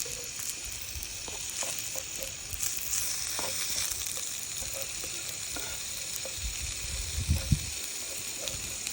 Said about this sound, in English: Don't burn the garlic. It goes brown quickly and then black and bitter.